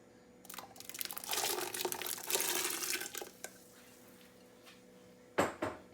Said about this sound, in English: So here I have my salsa ready. I just pour it in.